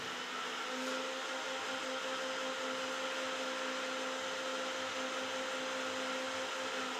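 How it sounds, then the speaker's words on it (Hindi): Mutton curry boiling inside a closed pressure cooker, a steady, faint hiss and rumble that holds unchanged throughout, with no voices. "तो हमारे देखिए उबाल आ चुकी है हमारे कुकर के अंदर"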